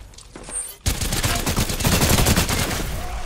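Rapid automatic gunfire from Apex Legends erupts after a short quieter stretch and continues loud and dense, with bursts overlapping throughout.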